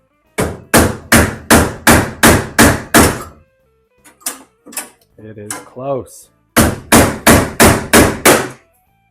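Hammer blows on Volkswagen Beetle body metal during front inner wheel well repair: a rapid run of loud, close, ringing strikes, a pause with scattered clanks and a short spoken remark, then another fast burst of heavy hits.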